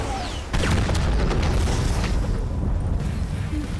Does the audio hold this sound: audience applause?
no